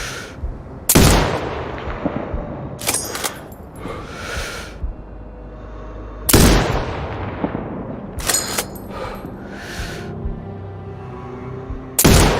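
Sniper rifle shots in the video game Sniper Ghost Warrior Contracts 2: several loud, sharp reports spaced a few seconds apart, each followed by a rolling echo and bolt-action clatter, over low ambient game rumble.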